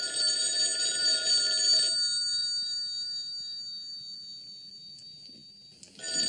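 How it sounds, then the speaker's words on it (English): A telephone bell rings indoors in a quiet room. A burst of ringing fades into near silence, then starts again at the end, with no talking. "Your phone is ringing."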